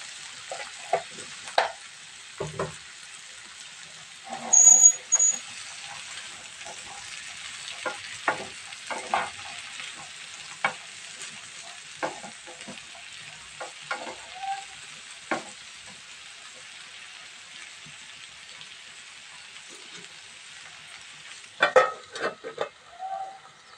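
Winter vegetables seasoned with salt and turmeric fry in a pan, a gentle steady sizzle punctuated by frequent short scrapes and taps of a spatula stirring them.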